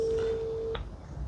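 A Zeblaze Btalk 3 Pro smartwatch places a phone call, sounding a single steady electronic ringback tone that holds for under a second and then cuts off, over a low background hum.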